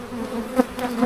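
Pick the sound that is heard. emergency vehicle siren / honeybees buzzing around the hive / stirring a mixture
honeybees buzzing around the hive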